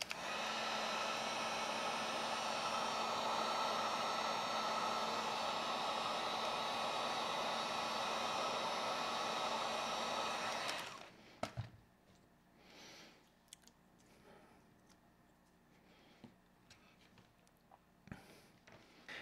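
A heat gun blows loud and steady for about eleven seconds while shrinking heat shrink tubing over a converter on a 2s-6s LiPo discharger, then cuts off, leaving faint handling clicks and taps.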